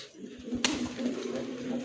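A large pigeon among a group of giribaz, chila and gorra kaldom pigeons for sale coos in low, rolling calls close by, with one sharp click partway through.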